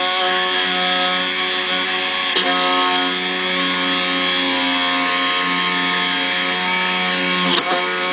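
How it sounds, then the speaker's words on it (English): A milling machine cuts a Chinese BiLock key, a steady loud whirring spindle tone with a harmonic whine that holds throughout, broken by two brief clicks or bumps. No voices. "As you can tell, it's milling downward."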